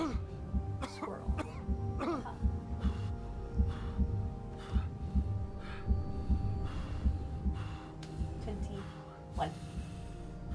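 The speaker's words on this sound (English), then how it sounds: "What's with this guy's heartbeat?" A steady, throbbing heartbeat pulses at a regular rhythm in the video game Expedition 33, heard alongside low hums and tonal game ambience, with scattered vocal sounds and talk mixed over it.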